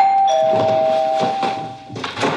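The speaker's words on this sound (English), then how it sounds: "Now the doorbell rings and the psychic is back" A doorbell chimes with a clear ringing tone, followed by a second softer ring, close and loud.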